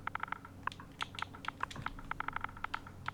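Quick typing on a computer keyboard, close and clear, with rapid bursts of clicking keystrokes separated by brief pauses.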